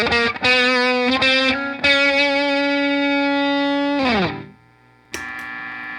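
An electric guitar plays distorted, sustained chords through a pedalboard. The chords ring loudly and cut off cleanly into near silence as the noise gate closes, then a new chord starts.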